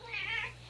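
A pet cat meows once near a bowl of dry food, a single clear, drawn-out, slightly whiny call, close and fairly quiet over a low steady hum.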